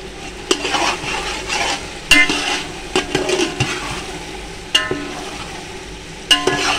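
Cumin sizzles in oil in a pot for vegetable pulao while a spoon scrapes and clanks against the metal in irregular strokes, with a steady frying hiss beneath the sharp knocks.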